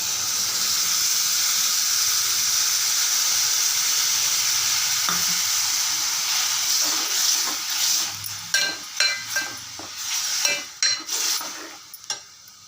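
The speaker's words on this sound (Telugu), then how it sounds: "ఆ పులుసు కూడా వేసేసేద్దాం మనం" Bitter gourd tamarind curry sizzles loudly in a pan as tamarind juice goes in, a steady hiss that fades into repeated clacking stirring strokes toward the end.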